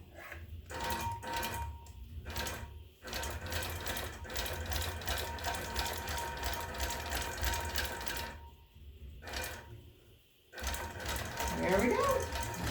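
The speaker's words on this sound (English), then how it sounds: "So we're gonna baste down this last bit and we're almost done." Longarm quilting machine basting down the last section of a quilt, a steady mechanical whirring and rapid stitching clatter running almost continuously, with brief pauses and a short stop near the end.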